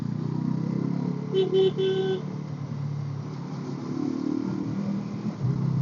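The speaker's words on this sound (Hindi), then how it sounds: "मैंने हॉर्न मारा" A vehicle horn gives a few short honks in quick succession over steady road and engine noise, close and fairly loud.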